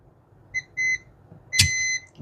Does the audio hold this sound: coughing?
no